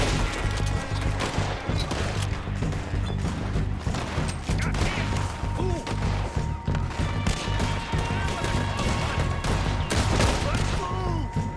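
Rapid gunfire in the Red Dead Redemption 2 video game, dense bursts of shots and clattering impacts running continuously throughout, with occasional voices talking underneath.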